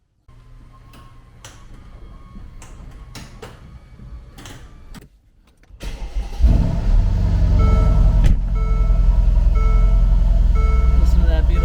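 A convertible car ticks quietly at first, then its engine starts and runs loud and steady at close range, with some rises in engine revs.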